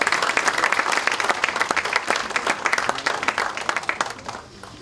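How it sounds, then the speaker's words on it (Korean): Applause at a Democratic Party caucus meeting honoring the floor leader and deputy leaders: a dense burst of clapping from a roomful of lawmakers that tapers off at the end. "부대표 단에게 또 박수를 보내주시기 바랍니다"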